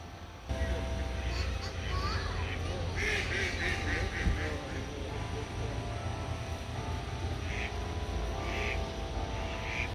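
Ducks quack intermittently in short bursts over steady outdoor rumble at a park, with voices talking nearby.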